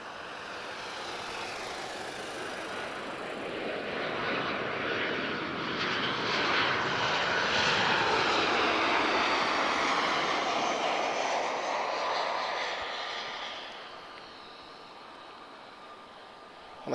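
A Transavia airliner arriving from Paris Orly at Lisbon Airport passes with a jet engine roar that swells from a distant rumble to a loud peak, then fades away, with no voices.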